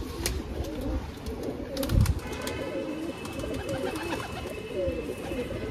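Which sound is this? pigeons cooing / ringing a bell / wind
pigeons cooing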